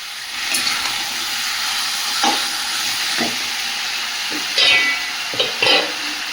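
Meat curry sizzles and hisses steadily in a pan while a spoon scrapes and stirs in several short bursts, close up, with no talking.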